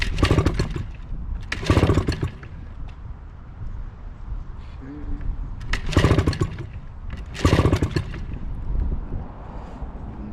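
A 1986 Mariner 5HP outboard motor is cranked with the choke on, giving two pairs of loud, rough engine bursts that sputter out between quieter stretches, close by.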